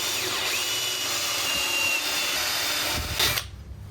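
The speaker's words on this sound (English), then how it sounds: "Time to drill a lot of holes." A power drill whirs steadily into wood, boring holes for decking screws, a continuous whine lasting several seconds before spinning down abruptly near the end.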